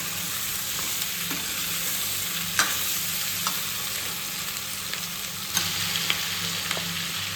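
Capsicum and onion sauté in a hot pan for chicken chilli, giving a steady, close sizzle with a few sharp spatula taps scattered through it.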